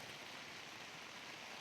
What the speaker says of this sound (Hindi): देखो दोस्तों, बारिश पड़ने लगी है यहाँ पर